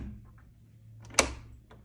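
An Andersen door's replacement lock actuator engages as the handle is lifted, giving one sharp mechanical click near the middle. Softer clicks and faint handling noise come before and after it, all close and quiet.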